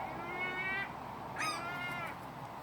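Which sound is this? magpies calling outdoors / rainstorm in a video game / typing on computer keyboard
magpies calling outdoors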